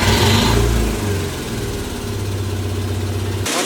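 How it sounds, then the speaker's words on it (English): A Mazda engine idles steadily with a loud, throaty muffler, a low rumbling drone that stays close and constant before cutting off abruptly near the end. "Not the engine, the muffler's just so loud."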